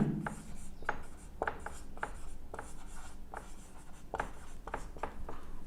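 Marker or chalk strokes on a board while working through a geometry lesson on direction cosines, a series of short scratchy strokes with brief pauses between them, close and fairly clear.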